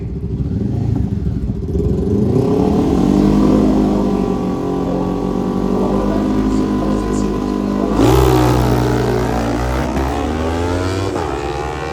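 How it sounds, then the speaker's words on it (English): A Honda CBR 500 motorcycle engine revs hard at a drag race, a loud, continuous mid-pitched roar that climbs through the gears with a sharp shift near the end, under commentary. "on board the Honda CBR 500, a new motorcycle for him"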